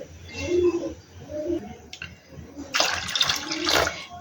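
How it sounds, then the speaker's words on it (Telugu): Leftover water poured into a rice-flour batter for vadiyalu, a splashing pour in the second half, loud and close, after quieter stirring and handling. "మిగిలిన వాటర్ అంతా కూడా ఇందులో వేసేసుకొని కలిపేసుకోవాలి."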